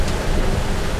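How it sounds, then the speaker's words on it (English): Strong gusting wind over a sailboat at sea, a steady loud rushing roar buffeting the microphone with no voices. "And this has been the wind situation."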